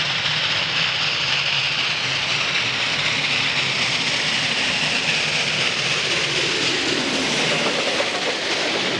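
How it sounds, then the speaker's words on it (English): Union Pacific Challenger steam locomotive moving under its own power, a loud, steady roar of rushing steam and rumbling machinery that fills the whole stretch without a break. "On that day, the Challenger moved once again under its own power."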